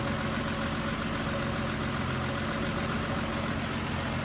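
A 230 cubic inch (3.8 liter) inline-six engine idles with the hood open, a steady, even running rumble held close and continuous throughout with no talk.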